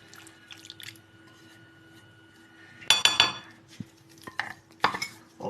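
Homemade Syrian-style shawarma meat being stirred through its marinade in a pan, with metal clinks and scraping bursts of utensil against cookware after a quiet stretch, close and intermittent.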